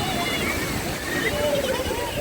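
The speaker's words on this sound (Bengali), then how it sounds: "কত বড় ঢেউ দেখেছ" Sea waves surging and sloshing at Shankhumugham Beach in Trivandrum, a continuous close roar of churning water with a voice talking over it throughout.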